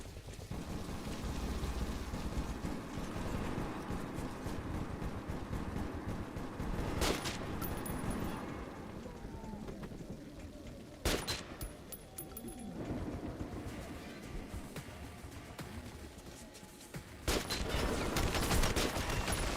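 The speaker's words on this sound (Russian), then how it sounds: "я в тебя столько раз стреляла" Gunfire in the shooter game Metro 2033 Redux, sharp shots cracking out around 7, 11 and 17 seconds over a dense, steady roar of ambient game noise, with a voice speaking faintly underneath.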